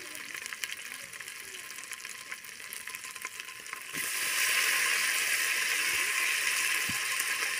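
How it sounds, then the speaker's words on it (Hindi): Onion with garlic ginger paste frying in a home pan, a soft low sizzle that suddenly swells to a loud, bright, steady hiss partway through, with faint scraping stirs beneath. "अब हम ऐड कर रहे हैं लहसुन अदरक का पेस्ट।"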